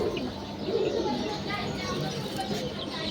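A newly acquired pair of pet pigeons cooing softly at close range, low repeated coos under a quiet voice talking nearby.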